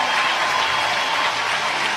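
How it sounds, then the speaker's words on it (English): Crowd applause in the stands at a college softball game, Oklahoma versus Houston: steady, dense clapping from many spectators, fairly loud and continuous throughout, with no pauses. "So the crowd gives a good round of applause for Nicole May."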